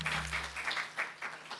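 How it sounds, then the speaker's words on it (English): A conference audience claps to welcome the speakers onto a symposium stage, dense applause filling the short stretch at a moderate, even level without voices. "with a round of applause"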